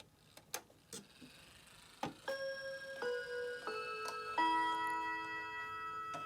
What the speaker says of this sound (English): Kinninger bracket clock